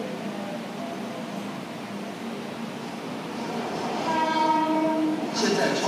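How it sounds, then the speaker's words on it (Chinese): A coal freight train from the Pingxi coal mining area in Taiwan rumbles steadily along the rails, growing louder toward the end, with faint horn-like tones. "再将运煤的火车开往桃园火车站"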